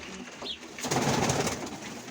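Mykolaiv pigeons coo softly in a loft, a brief low murmuring call following a faint higher chirp, near and moderately quiet.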